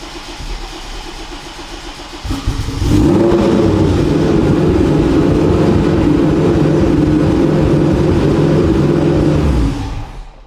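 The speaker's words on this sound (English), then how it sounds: "One more cold start for the boys to end off the night." Cold start of an AWD-converted Honda Civic engine: after a quiet couple of seconds the engine cranks and catches, settling into a loud, steady high idle for several seconds before cutting off.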